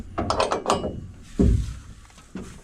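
Tightening nuts on the stainless 304 exhaust of a Kubota L-4018sp tractor: a quick burst of several close ratchet clicks, followed by a heavy metallic clunk and a softer knock, with no talk.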